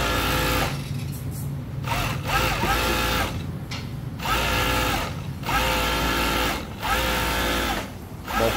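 A Kansai right-trimming overlock sewing machine stitches women's underwear, running in loud, steady whirring bursts separated by short pauses as fabric is fed through, with no talking.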